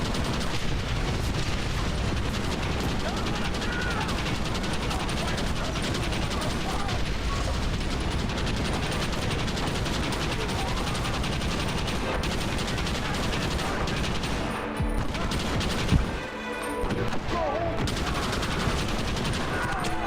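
Machine gun fire in Red Dead Redemption, dense rapid bursts of shots layered with booms and mechanical clatter, loud and nearly continuous with a brief lull near the end.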